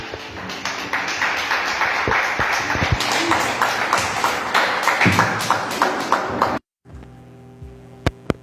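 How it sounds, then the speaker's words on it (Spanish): A church congregation claps together in a loud, steady rhythm of repeated claps with voices mixed in, which stops abruptly and is followed by a few scattered claps. "Dale un fuerte aplauso al Señor."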